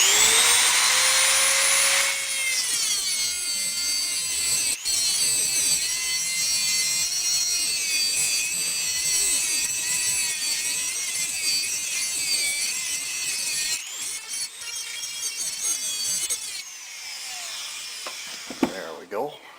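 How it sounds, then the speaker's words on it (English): A Dremel rotary tool cuts a piece of wire to length with a loud, high-pitched whine that holds steady for most of the span, then drops away near the end. "Okay, now we just got to cut a piece of wire to length. I'm going to use a Dremel tool to do this with."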